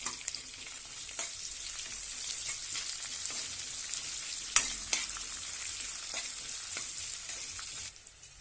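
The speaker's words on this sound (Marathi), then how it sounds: "कांदा उभा चिरून घेतलेला आहे तो घेऊया आणि छानपैकी परतून घेऊया।" Sliced onions sautéing in a pan for methi pulao give a steady close sizzle with a few stirring scrapes and clinks, then the sizzle drops away near the end; nobody speaks.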